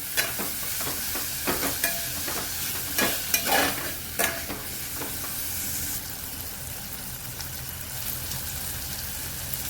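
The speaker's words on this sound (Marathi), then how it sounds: "टॅमॅटो पण चांगला मऊ होईपर्यंत परतून घ्यायचा." Tomatoes sautéing in a pan for vegetable pulao, a steady close sizzle and hiss with repeated scraping stirs of a spatula across the pan, continuous throughout with no talking.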